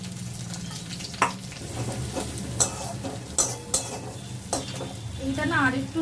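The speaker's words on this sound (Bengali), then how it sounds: "এবার পেঁয়াজ দেবো, যে পেঁয়াজগুলোকে কেটে রেখেছি সেই পেঁয়াজ দেবো" Chopped onions go into hot oil with cumin, giving a low frying hiss under repeated clinks and scrapes of a utensil against the pan, a brief rattling stir near the end, and no talk.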